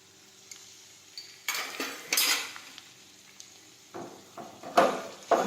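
Poha being stirred in a pan after powdered sugar and lemon juice go in, giving several bursts of scraping and clinking from a spoon against the pan, separated by quieter gaps.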